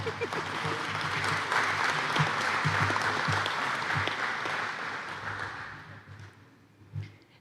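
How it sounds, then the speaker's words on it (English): An audience applauds at a criminal justice and peace officer skills graduation ceremony, a dense, sustained round of clapping that tapers off gradually, ending with a brief burst near the close. "Feel free to clap if you wish."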